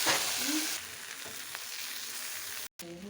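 Chopped onion and ginger paste frying in a little oil, giving a close, bright sizzle with stirring scrapes and a brief dropout near the end.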